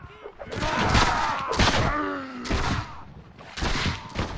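Musket volleys in the Napoleonic Wars battle game Mount & Blade: four heavy, crackling shots spaced about a second apart, each followed by a short ringing tail. Battle noise sits underneath.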